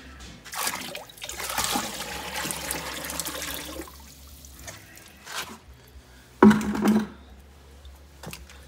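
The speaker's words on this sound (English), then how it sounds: "So I got about a half a pail of hot water right here." Hot water pours from a half-full pail while elver fishing, a splashing, trickling flow in a few bursts with a sharper gush near the end, close by and heard alone.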